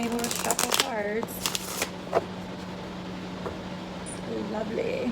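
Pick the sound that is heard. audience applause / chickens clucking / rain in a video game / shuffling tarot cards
shuffling tarot cards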